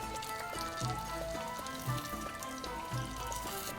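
Hot fried Znoud El Sit, Lebanese cream-filled pastry rolls, dropped into sugar syrup, giving a steady bubbling sizzle with soft crackles and a few light splashes, heard close up and alone.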